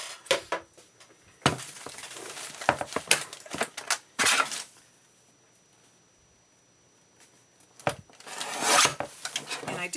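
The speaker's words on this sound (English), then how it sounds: "I am now cutting off the distress ink that I just put on there" Scissors snip through paper pages of a handmade journal in short, close bursts of crisp rasping cuts, separated by quiet pauses with no talking.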